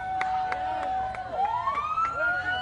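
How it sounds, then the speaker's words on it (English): Police sirens wail close by in the street, with a rising and falling electronic tone that then shifts to a higher pitch, and a voice talks faintly underneath. "And now we're hearing the sirens."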